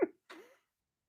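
A single short sneeze from a person painting indoors, followed a moment later by a brief dog bark, then silence.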